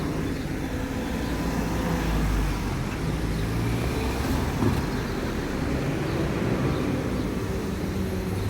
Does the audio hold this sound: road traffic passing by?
yes